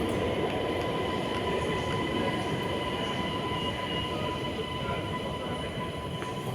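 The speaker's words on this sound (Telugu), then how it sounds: "వచ్చింది, ట్రైన్ వచ్చింది, ఎక్కుదాం." A driverless metro train rumbles steadily into a station, with a constant roar of wheels and a thin high tone running throughout. No one speaks.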